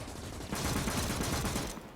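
Sniper and rifle fire in the WWII Eastern Front shooter Call to Arms: Gates of Hell, a dense, continuous crackle of shots and battle noise that swells louder after the opening half-second and holds steady to the end.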